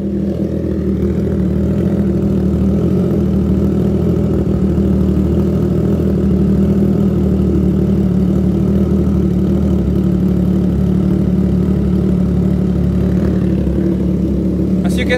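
Triumph Trident 660 motorcycle idling with its exhaust note, a steady, loud low rumble held evenly throughout with no revving.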